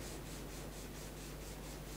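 Steady, even rubbing of a finger working pastel into textured paper, a soft continuous scraping with a gentle back-and-forth pulse, close and quiet.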